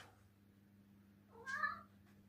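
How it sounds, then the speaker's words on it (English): A house cat lets out a single drawn-out meow as it wanders around the house, fairly close and clear against a quiet room with a low electrical hum. "My cat just keeps walking around meowing"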